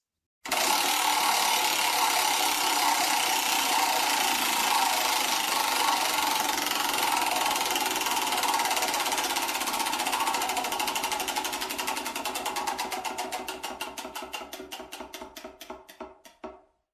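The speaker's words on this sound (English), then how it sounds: "Let's spin the wheel of mayhem, man." A spinning prize wheel sound effect rattles loudly as a rapid, continuous stream of clicks, then gradually slows into distinct, spaced ticks before stopping.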